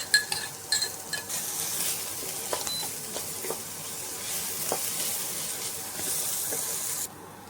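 Chopped onion with crushed ginger and garlic fries in hot oil in a kadai, giving a soft continuous sizzle broken by spoon scrapes and stirring clinks, fairly quiet and close.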